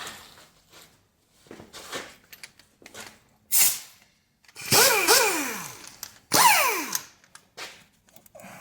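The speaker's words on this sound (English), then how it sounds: "we're gonna use a baby impact for that" A small impact wrench works on the spark plugs of a 2010 GMC Savana or Chevy Express van, firing in several short rising whirring bursts of varying length separated by pauses, loud and close.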